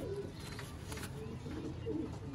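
A mid-sized golden pigeon in a fancier's loft gives soft, low cooing notes, faint and close, over a background hum.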